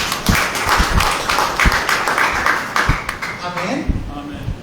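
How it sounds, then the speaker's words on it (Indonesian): Congregation clapping during a church service, a bright rush of applause with distinct hand claps, fading toward the end as voices come in. "Yuk yang mengerti tepuk tangan berdua."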